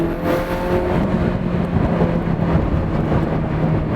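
A loud, deep engine roar from a Ferrari F40 sports car driving, rumbling steadily throughout with road noise, heard close from inside.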